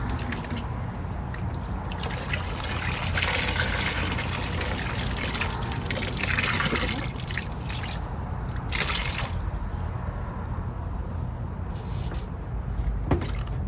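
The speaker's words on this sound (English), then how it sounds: "You have to wet your wool." Wool being soaked in water before dyeing, a continuous close trickling and sloshing of liquid with drips, steady throughout with no talking.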